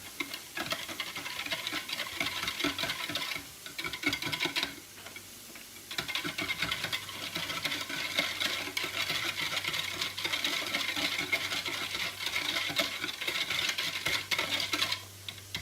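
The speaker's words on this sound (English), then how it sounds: "I have a teaspoon of ginger and a teaspoon of onion powder. Whisk those together." Ground ginger and onion powder are whisked together in a bowl, giving a fast, steady run of light clicking taps that continues for a while with no talk.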